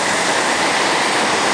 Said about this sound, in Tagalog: Grabe, dumating na yung baha dito sa amin.